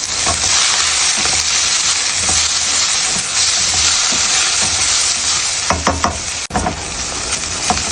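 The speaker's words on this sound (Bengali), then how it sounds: "পেঁয়াজটা অলমোস্ট ব্রাউন কালার হয়ে গেছে" Sliced onions with added salt fry in a hot pan for an egg and vegetable curry, a loud continuous sizzle close by with stirring scrapes and clatters near the end, no voices.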